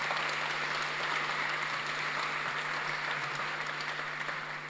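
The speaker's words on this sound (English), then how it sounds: "Huge thank you to you guys and to all the speakers who are still around. A round of applause." Audience applause for speakers at a fabrication panel symposium, a steady wash of many hands clapping throughout, fairly loud and continuous with no talk.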